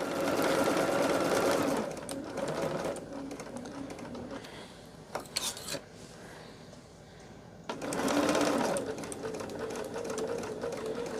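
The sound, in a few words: sewing machine stitching quilt block seams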